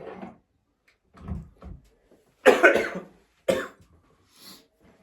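A person with a cough gives two loud, harsh coughs about a second apart, with softer shuffling and breathy sounds before and after and no speech.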